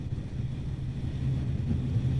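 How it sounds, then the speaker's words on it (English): Strong wind buffets an outdoor microphone in a steady low roar and rumble, with no voices heard across the short stretch. "Whoa, that's windy."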